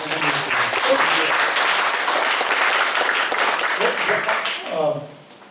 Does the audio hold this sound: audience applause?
yes